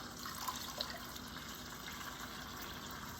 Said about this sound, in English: But you do want to add some of this water that's in here with it.